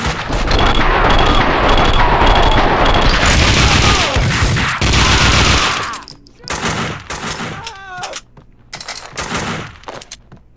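Gunfire in Max Payne 2: a dense, loud burst of rapid shots and crashing impacts for several seconds, then scattered single shots and debris with brief pauses.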